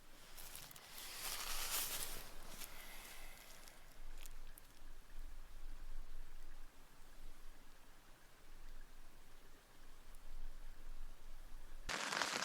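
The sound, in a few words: heavy rain on a tent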